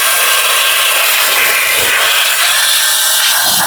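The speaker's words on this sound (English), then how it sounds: "So just take your air duster." A cordless air duster rated at 180,000 RPM, a 2-in-1 duster and vacuum, blows air into small nooks and crannies, giving a loud, steady, hissing rush that holds unbroken and close throughout.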